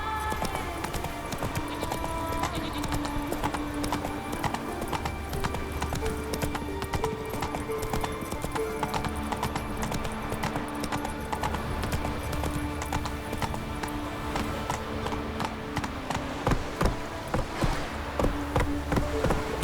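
Horse hooves clip-clop steadily at a brisk gait in The Witcher 3 video game, a continuous close rhythm beneath game music and ambience, with an occasional faint whinny.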